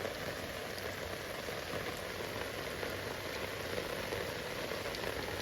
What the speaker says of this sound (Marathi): पाऊस अजिबात थांबलो नाही